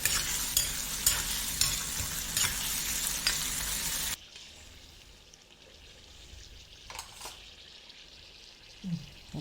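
Ingredients for a Malabar sardine fish curry sauté in a pan, with a loud, dense sizzle and stirring scrapes for about four seconds before the frying drops to a quieter crackle with a few soft knocks.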